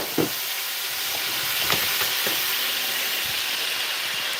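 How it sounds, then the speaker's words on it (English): Shrimp sizzling in melted butter in a pan, a steady bright hiss that stays loud and close throughout, broken by a few small pops and crackles. "Let's add the shrimp."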